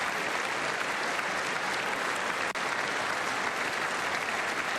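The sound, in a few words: applause at State of the Union address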